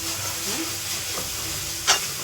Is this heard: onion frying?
yes